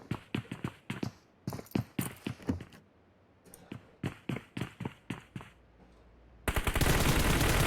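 Rapid bursts of gunfire in the PUBG Mobile battle royale game, repeated sharp volleys in clusters with short pauses, ending in a loud sustained blast like a vehicle explosion.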